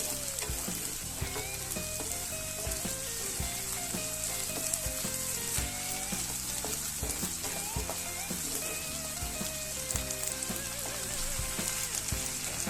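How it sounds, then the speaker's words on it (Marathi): Onions, green chillies and tomatoes frying in a pan for Marathi-style anda bhurji, a dense continuous sizzle heard under steady background music with tonal notes, no voices. "टोमॅटो टाकते आणि छान टोमॅटोला गळू देते मस्त छान शिजला की आपण बाकीचे मसाले टाकू"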